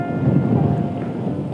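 Water runs down a hillside in Meghalaya's Mawkdok Dympep valley with a steady, dense rushing hiss, loud and close, with no voices over it.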